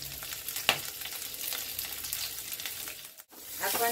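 Potatoes seasoned with a little turmeric and salt fry over medium-low heat with a crackly, steady sizzle, punctuated by a few sharper pops and stirring scrapes close by.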